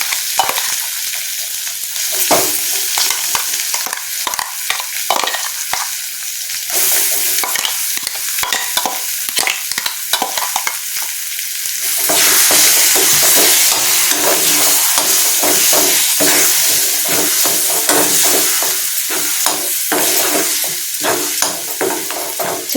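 Cucumber and coriander chutney frying in a pan, a loud, close sizzle with repeated stirring scrapes, the hiss swelling stronger midway and continuing steadily, no voices.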